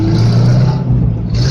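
Toyota Carina with a hole in its exhaust, just back from an engine overhaul, driving along with a loud, steady low drone that continues throughout with no voices.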